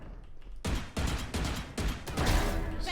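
Vandal rifle fire in the video game Valorant comes in loud, close bursts of rapid shots, repeating in several short volleys with brief gaps, and no voices are heard.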